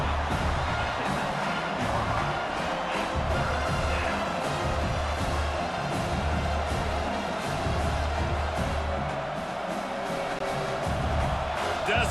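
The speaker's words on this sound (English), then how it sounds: "Decibels rising as the crowd gets behind this defense on third down." A stadium crowd at a football game roars and cheers in a dense, sustained wall of noise on third down, holding loud and steady throughout.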